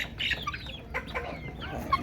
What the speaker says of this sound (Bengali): তিতর মুরগিগুলো দেখুন কীভাবে খেতেছে